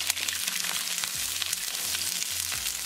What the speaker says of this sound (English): We're going to saute asparagus for a couple minutes.